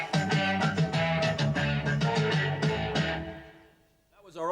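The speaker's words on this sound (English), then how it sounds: "Perhaps we could end with another jingle that sounds like this." A 1978 radio station jingle plays back from a broadcast cartridge: a bright, rhythmic musical phrase with punchy repeated chords that fades out near the end, followed by a brief voice.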